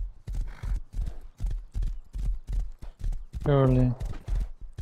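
Hooves of a horse being ridden in the survival video game Rust clip-clop steadily and loudly throughout, with a whinny partway through and someone speaking briefly over the hoofbeats.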